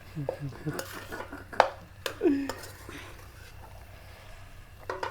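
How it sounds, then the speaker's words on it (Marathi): Dishes and cutlery clink and clatter in a few scattered knocks and scrapes, fairly close, with quiet gaps between them. "भांडे घासणार आहेस तू?"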